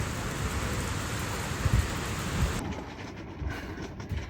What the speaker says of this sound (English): Romantic walk home in the rain